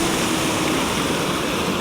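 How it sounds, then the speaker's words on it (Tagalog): At Taytay Falls in Majayjay, Laguna, a strong river current rushes in a dense, continuous roar close at hand with no pauses. "Ang lakas ang agos eh."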